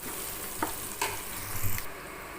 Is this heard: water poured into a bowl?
no